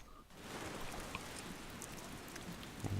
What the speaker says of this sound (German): Ich habe einen Regen gemacht.